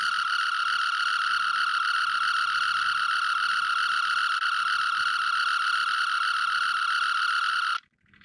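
A Star Trek Type-1 phaser toy fires a steady, loud electronic warbling tone that holds for almost eight seconds, then cuts off abruptly.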